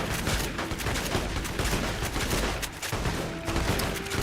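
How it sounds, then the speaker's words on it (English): Dense, continuous automatic gunfire and overlapping shots in the post-apocalyptic shooter Fallout New Vegas, loud and sustained throughout with no pauses. "Why are they shooting the saloon roof?"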